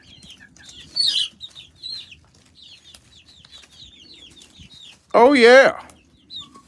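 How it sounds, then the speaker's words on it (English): Backyard chickens cluck and chirp softly while pecking at organic greens at feeding time, with one loud, harsh squawk near the end and someone speaking briefly. "They love these organic greens. Gotta feed your chickens healthy, natural food."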